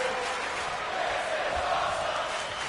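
A wrestling crowd roars and cheers in a sustained wash of massed voices, with a brief thud partway through and no clear commentary in the clip.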